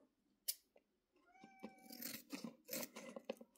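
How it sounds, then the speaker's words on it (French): A small cat gives a couple of soft, high meows amid close rustling and crinkling from a candy-tasting session. The meows are faint and brief against the handling noises. "Si vous entendez des petits miaulements, c'est normal."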